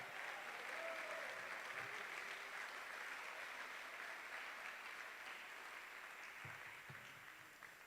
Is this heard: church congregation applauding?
yes